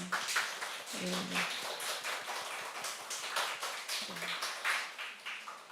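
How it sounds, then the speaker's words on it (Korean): A church congregation at a Friday worship and prayer service in Hong Kong claps in welcome, a dense, steady patter of many hands filling the room for several seconds, with brief voices murmuring underneath. "우리 그래도 환영의 박수 한번."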